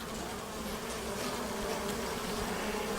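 A dense, continuous hum of honeybees fills an open hive box during an inspection. The steady buzzing is close and even, with no voices over it.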